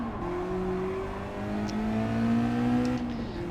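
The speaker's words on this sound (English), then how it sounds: "Going into second gear there, that's unnecessary." A racing-sim car engine revs hard and shifts into second gear, a loud close whine climbing in pitch, dipping at the shift, then rising again, with no voices over it.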